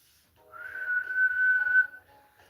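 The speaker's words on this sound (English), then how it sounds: "I think she's talking about the Aztec death whistle." An Aztec death whistle blown once in a single sustained, wavering, shrill tone lasting about a second and a half, fairly loud and alone with no talk.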